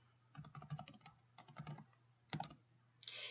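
Clattering keystrokes on a computer keyboard as an address is typed into a browser tab, three close bursts of quick taps with short pauses between them, ending in a brief sharper clack.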